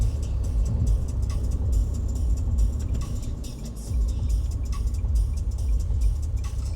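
A car drives off a freeway onto an exit, with a steady low road rumble and engine drone throughout, continuous and fairly loud with no talking.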